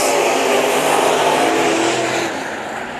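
Race cars roar together through a heat race at Bakersfield Speedway, a loud, continuous engine drone close by that eases slightly near the end.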